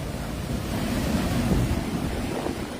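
Heavy, steady rush of water pouring from an auxiliary flood drainage pump in Bangkok during the rainy season, a broad continuous roar like a waterfall, loud and close with no talk over it.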